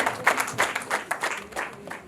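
A crowd claps at a wedding, a brief burst of rhythmic, fairly close applause with evenly spaced beats lasting about two seconds.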